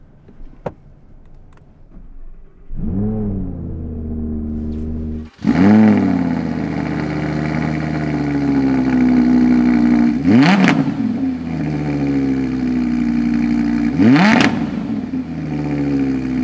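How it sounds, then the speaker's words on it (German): An Audi R8 RWS engine cranks and catches, then idles loudly with a deep rumble, punctuated by two sharp revs that rise and fall. "Machen wir den Wagen mal an."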